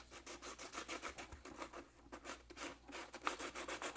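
Coarse sandpaper scrubs over a Boba Fett helmet in quick, steady back-and-forth strokes, a close, continuous rasping rhythm with no voices.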